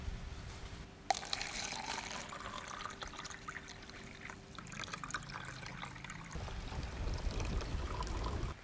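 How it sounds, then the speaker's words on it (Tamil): Green apple jelly for kuchi ice is poured into a container as a steady close liquid stream, beginning with a small clunk and continuing for several seconds, with no talking. "Green apple jelly ஊத்திக்கலாம்."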